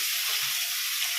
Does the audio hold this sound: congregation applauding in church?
no